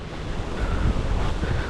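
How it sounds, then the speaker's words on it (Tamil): Strong wind buffeting the microphone on the seashore at Hut Bay, Little Andaman, a loud rushing roar with gusty low-end swells over the wash of surf. "விண்ட் நாய்ஸ் இருக்குன்னு கம்ப்ளைண்ட் பண்ணாதே"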